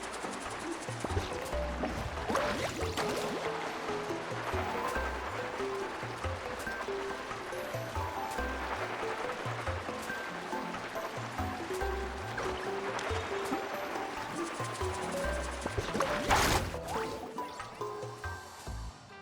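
In Genshin Impact, a boat carves through waves with a continuous rushing, sloshing wash of water and splashes. A louder surge of spray comes near the end, and there is no talking over it.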